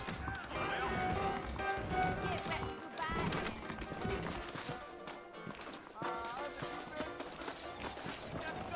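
Horses clip-clopping at a trot in the Western video game Red Dead Redemption, rhythmic hoofbeats mixed with game sounds and a busy background at moderate level.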